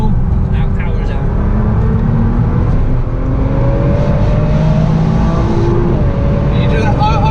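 Nissan R35 GT-R engine accelerating hard on a racetrack, a loud continuous drone whose pitch rises and falls with throttle and power changes, with a driver and instructor talking over it throughout.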